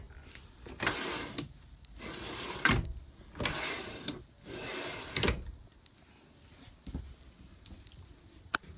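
A drawer in an aluminum travel trailer slides open and shut several times in a row, each pass a short rumbling rush ending in a soft knock, close by with no talking.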